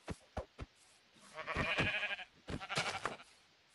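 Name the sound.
sheep bleating in a survival video game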